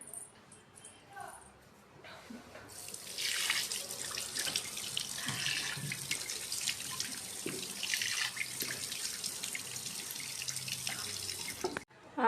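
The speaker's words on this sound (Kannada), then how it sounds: "ಇದನ್ನು ನಾನೀಗ ವಾಶ್ ಮಾಡ್ತೀನಿ ನೀಟಾಗಿ ವಾಶ್ ಮಾಡ್ಕೊಂಡ್ಬಿಡ್ತೀನಿ" Tap water running into a sink while someone rinses their face, a steady splashing flow starting after a quiet moment and continuing with faint handling sounds before stopping abruptly.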